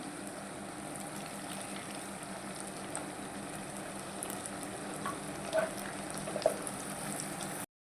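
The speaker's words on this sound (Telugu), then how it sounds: "మనం దోసకాయ వేసేసుకుందాం నాటు దోసకాయ వేసుకోండి" Native cucumber pieces sizzling in chicken curry inside a clay pot, a steady soft frying hiss and bubbling throughout, with a few small pops.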